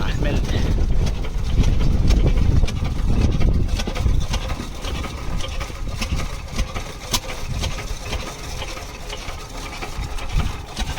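A desi diesel engine idles close by at a farm well with a steady, rough low rumble and a continuous mechanical clatter, unchanging throughout.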